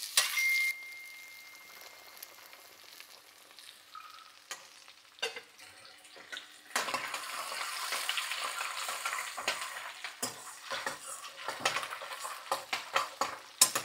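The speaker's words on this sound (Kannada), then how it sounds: "ಬಟಾಣಿಯನ್ನು ಫ್ರೈ ಆಗಲಿ." Green peas fry in a pan with a crackling sizzle that starts faint and swells into loud, dense spattering, with scattered stirring clicks near the end and no voices.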